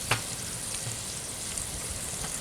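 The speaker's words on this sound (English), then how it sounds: "Celery and green pepper are going in." Chopped celery and green pepper sizzle in a Dutch oven over an open campfire for red beans and rice, giving a steady, close frying hiss with a few soft crackles and no voices.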